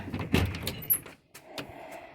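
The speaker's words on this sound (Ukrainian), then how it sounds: "Далі йдуть двері" A door in a house is pushed open with a short thud, a rattle of its handle and a light scrape, close and fairly quiet, followed by a few soft knocks.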